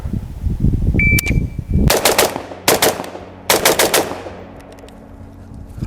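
An AR-15 rifle fires close and loud in quick bursts of sharp cracks, three clusters of rapid shots, each ringing out with echo, after some lower handling noise at the start.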